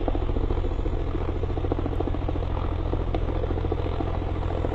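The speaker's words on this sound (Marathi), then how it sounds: "आपण दृश्यांमध्ये पाहतो एका मैदानामध्ये हेलिकॉप्टर लँड करत होतं" A helicopter landing in an open field, its rotor beating in a steady, loud, continuous drone with a low engine rumble throughout and no voices.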